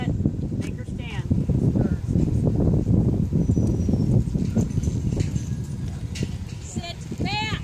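A horse in a youth boxing class at a reining event moves along with steady, rhythmic hoofbeats in an arena while a coach talks loudly over it throughout.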